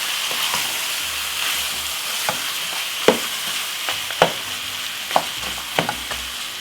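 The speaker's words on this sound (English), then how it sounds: "Give it a stir." Marinated curry goat frying in a pot while being stirred, a loud close sizzle punctuated by repeated scraping knocks of the spoon against the pot.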